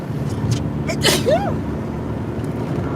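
A single sharp sneeze bursts out close by, followed by a short airy gasp, with traffic-like rumble in the background.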